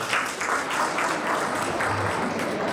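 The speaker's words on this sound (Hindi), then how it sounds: "इसके लिए जोरदार ताली।" Sustained, steady applause from the crowd at a coaching institute's annual function honouring a topper, with dense clapping at even loudness throughout and no talk over it.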